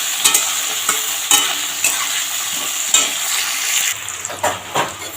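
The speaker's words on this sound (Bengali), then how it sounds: "সব সবজিগুলো এরকম করে ভাজবো যে যাতে মানে ভাজাতেই যাতে এটা সেদ্ধ হয়ে যাবে" Cauliflower and other vegetables fry in hot oil with a steady, loud sizzle, broken by clinks and scrapes of a spatula stirring the pan.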